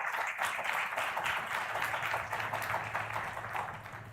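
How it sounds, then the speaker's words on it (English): An audience at a summit valedictory session gives a steady round of applause, a dense continuous wash of clapping at moderate distance that holds evenly throughout without any talk over it. "A round of applause for Mr. Manish here"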